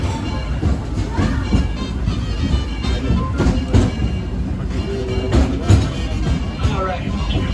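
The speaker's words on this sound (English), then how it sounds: "please remain seated until the train comes to a stop" A Disneyland Railroad train on the Grand Circle Tour runs along its rails with a steady rumble and rhythmic clacks, loud and close, with faint crowd murmur in the background.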